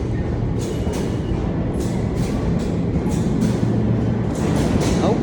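A C subway train runs through the station with a loud, dense rumble and repeated brief clattering bursts from the cars, continuous and near, without speech.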